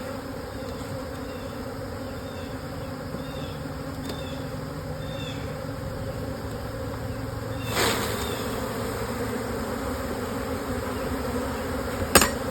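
Steady, dense buzzing of many honey bees at an open hive close by, a continuous hum with a couple of brief knocks or clicks.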